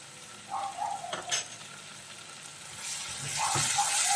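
Chopped tomatoes sautéed with onions and green chillies in a pan for rajma curry, a steady close sizzle with scraping stirs and occasional clinks of a utensil, growing louder toward the end.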